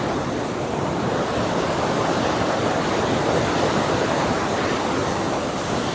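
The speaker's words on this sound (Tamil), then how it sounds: "கொஞ்ச நேரம் அப்படியே தண்ணியுடைய சத்தத்தை மட்டும் கேளுங்க." Niagara Falls at night: rushing water roars in a loud, unbroken wash, a dense steady torrent with no voices over it.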